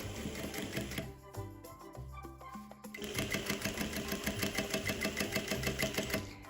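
Sewing machine stitching a backstitch while sewing a mitred corner, a rapid mechanical needle clatter that pauses briefly, then resumes at a fast even rhythm, close and clear with no talk.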